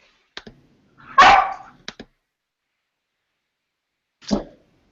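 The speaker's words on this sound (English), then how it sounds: "that was my puppy that barked just a second ago" A puppy barks indoors in a few short, sharp bursts, one louder bark near the start and another after a pause, with quiet between.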